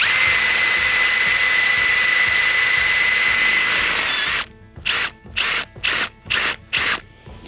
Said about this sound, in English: so we'll see how the bulb auger works